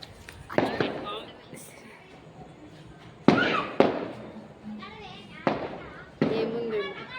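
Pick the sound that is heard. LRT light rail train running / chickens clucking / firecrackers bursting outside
firecrackers bursting outside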